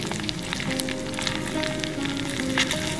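Food sizzles steadily in a hot wok outdoors beside a river, a continuous crackling frying hiss with faint tonal hums and scattered clinks throughout.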